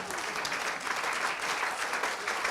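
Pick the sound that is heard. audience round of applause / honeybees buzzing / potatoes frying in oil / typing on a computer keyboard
audience round of applause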